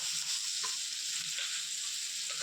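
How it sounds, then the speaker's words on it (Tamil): Chopped onions sautéing in a pan for a spicy chutney, a steady bright sizzle with a few soft stirring clicks, close and alone. "இப்போ நம்ம வெங்காயம் நறுக்கி வச்ச வெங்காயத்தை எடுத்து போட்டு வதக்கலாம்."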